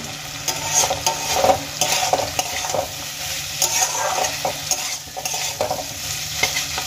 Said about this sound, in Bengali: এবার আমি কিছুক্ষণ মশলাগুলোকে ভালো করে কষিয়ে নেব।